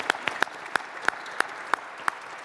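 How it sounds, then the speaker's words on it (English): A church youth-session audience applauds in a room: eight sharp, regularly spaced claps ring out over a soft bed of scattered clapping, loud and close, with no talking. "Une grande main d'applaudissements."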